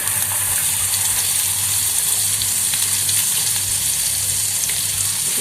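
Tomato and onion puree for Maharashtrian misal sizzles loudly in a hot pan, a dense, continuous hiss that stays close and steady, with small crackles running through it.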